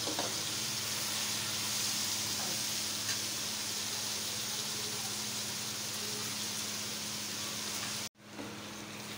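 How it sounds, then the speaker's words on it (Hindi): Vegetables fry in a pan, a constant broad hiss and crackle held close and steady for several seconds, with a faint low hum beneath, before an abrupt brief cut and a quieter return. "तीन मिनट तक मैं इनको भून के फिर इसमें मिसाला डाल देंगे हम"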